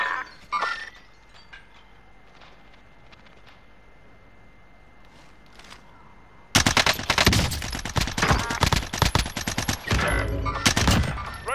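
Gunfire erupts in a shooter video game: after a quiet stretch with a few scattered shots, a sudden loud barrage of rapid automatic fire and dense crackling shots dominates the rest.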